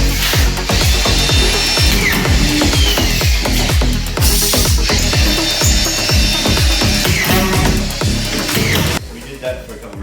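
A screw gun drives collated screws into drywall on half walls in a flood-damaged room. Rapid repeated bursts of whirring and biting come close up in quick succession, and the noise cuts off abruptly near the end.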